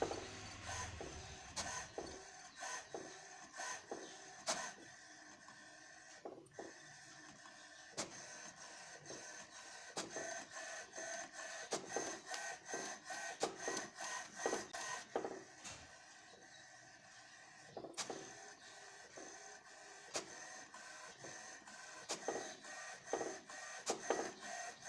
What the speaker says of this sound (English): So it's printing its first page.